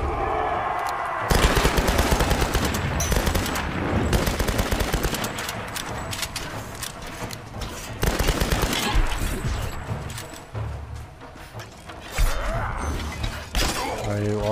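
Sustained gunfire from the Tomb Raider video game, dense bursts of shots with impacts running almost the whole way through at high, loud level, with a player's voice talking over parts of it.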